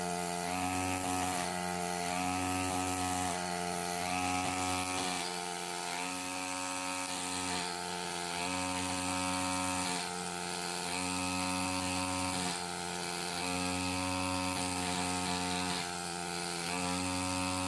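A Bronto air scribe with a 5 mm tungsten carbide stylus chips rock away during fossil preparation, giving a loud, continuous, high buzzing drone whose pitch shifts slightly every second or two. No voices.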